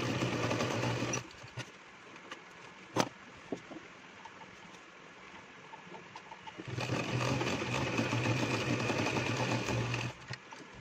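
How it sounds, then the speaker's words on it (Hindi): A sewing machine stitches elastic onto a palazzo pants waistband in close, steady whirring runs, pausing into quieter gaps with soft clicks before starting up again. "यहाँ से और इधर से दोनों साइड हम सिलाई लगा के पक्का कर देते हैं इसको"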